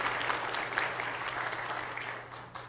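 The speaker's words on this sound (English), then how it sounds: "would you give a round of applause?" A church congregation applauds during a Sunday morning service, a steady wash of many hands clapping at moderate level that holds for a few seconds and thins slightly at the end, with a low steady hum beneath.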